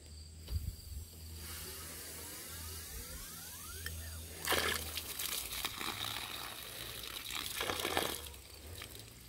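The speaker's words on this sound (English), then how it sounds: "I'm going to crack the water till it's barely running." A garden tap is opened from a near-silent drip to a faint running trickle of water, then rises to a louder gush, with crickets audible in the background.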